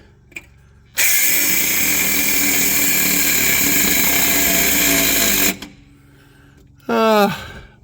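Cordless power tool cutting through an Iveco 75E15 horsebox's exhaust front pipe, a loud steady high-pitched whine lasting about four seconds that stops abruptly, followed later by a brief rising mechanical whir.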